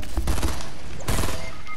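Rapid gunfire in the video game Fortnite, two dense loud bursts of automatic shots close together, filling the short clip with no talk over it.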